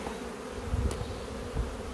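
Honeybees buzz at an open hive during inspection, a low, continuous droning hum with a faint passing whine from a bee flying close.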